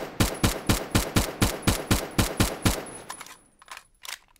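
Phantom Forces game gunfire: a steady, evenly spaced burst of about eleven loud, close shots, then a few scattered fainter ones as the firing trails off.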